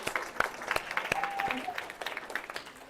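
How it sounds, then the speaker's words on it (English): Audience applause at a property owners' association governance forum, a short, uneven patter of scattered clapping from a modest crowd, with a voice briefly heard in it. "Let's give her a round of applause."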